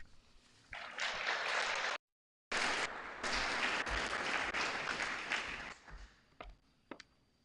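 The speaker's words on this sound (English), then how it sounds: "One more round of applause for all of our speakers tonight." An audience at a school open house evening breaks into sustained applause, a dense wash of clapping that cuts out briefly, resumes, then thins to a few scattered claps.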